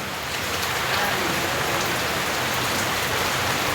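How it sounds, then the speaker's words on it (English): Steady, loud rain pours down outside a house, a dense even hiss of drops on surfaces with no pauses and no voices. "now it's raining"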